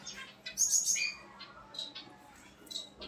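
Bengali poster pigeons at a small farm give soft, brief chirping calls and a few louder squawky bursts, close by against a quiet background, with no talking.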